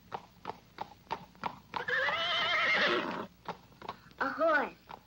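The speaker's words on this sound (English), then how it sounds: "A horse." A horse in a city street whinnies twice, a long neigh and a shorter one, over a steady clip-clop of hooves, with a voice speaking around it.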